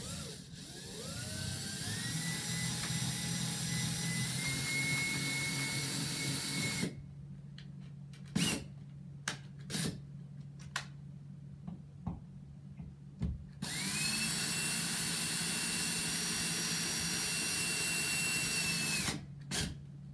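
A power drill drives screws for a First Alert smoke alarm's plastic mounting plate into a ceiling, with two long steady whining runs split by a pause of clicks and handling knocks, close and loud.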